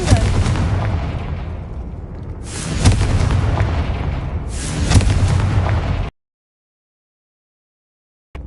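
A Confringo blasting spell in Hogwarts Legacy on PS5 sets off three loud booming explosions in quick succession, each with a rumbling tail, followed by a sudden stretch of silence.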